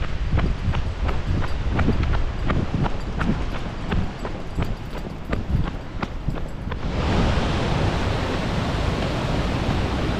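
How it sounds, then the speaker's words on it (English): Farmington Creek waterfall in Farmington Canyon, Utah, roaring with heavy spring flow: a steady broadband rush of water, overlaid at first by a run of regular crunching taps like footsteps that stop partway, leaving the water alone. "Yeah, a lot of water coming down."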